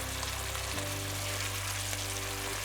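Steady bubbling and sizzling of fried pork simmering in soy sauce in a pan, with a low continuous hum underneath and no voices.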